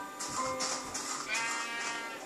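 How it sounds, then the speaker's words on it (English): Sheep bleat in a farm pen, with a few wavering, nasal calls overlapping amid a bright, noisy outdoor background. "Well, here's a nice sheep."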